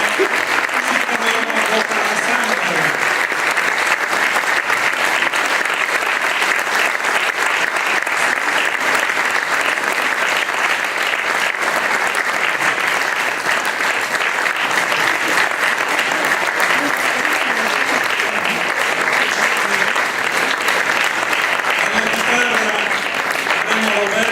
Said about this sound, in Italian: le accogliamo con un grande applauso il coro femminile